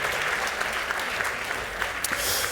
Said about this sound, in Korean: 우리 하나님 앞에 영광의 박수 다시 한번 올려드리겠습니다.